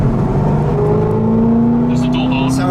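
Corvette with a dual-mode exhaust, either a C6 ZR1 or a C7 Z06, revving with a loud, steady engine drone whose pitch climbs gradually, heard up close.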